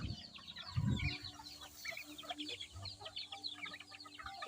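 Chickens and newly hatched chicks in a backyard pen cluck and peep faintly and continuously, soft thin chirps scattered over a quiet background with one low nearby cluck early on.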